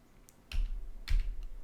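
A computer keyboard is typed on in a few quick, soft, close key taps, heard alone against a quiet room background.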